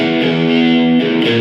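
Electric guitar played through a Blackstar amp on its first overdrive channel, a thick distorted chord held and sustained, then re-struck near the end, loud and close with no talking.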